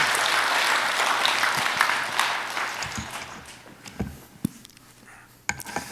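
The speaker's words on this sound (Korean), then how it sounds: "박수로 맞이해 주시기 바랍니다" Church congregation applauding to welcome an elder to the front for a testimony at a dawn prayer service, a dense wash of clapping that gradually thins and fades, ending in a few scattered claps.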